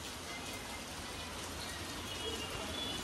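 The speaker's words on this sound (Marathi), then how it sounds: "खूप एवढा पाऊस पडते." Steady rain falls during a rainy-season family outing, a faint, even hiss of drops continuing without pause and with no talking.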